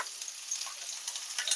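Chopped onion hitting oil on a hot tava for a snake gourd bhaji, giving a close, continuous bright sizzle with small crackling pops throughout.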